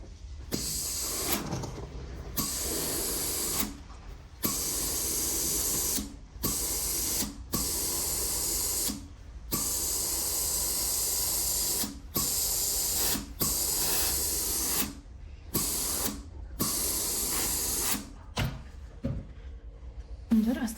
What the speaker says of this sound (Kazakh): Жаңағы жағамыздың тігісін жатқызып өтіктеп аламыз.